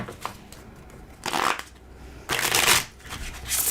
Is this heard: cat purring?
no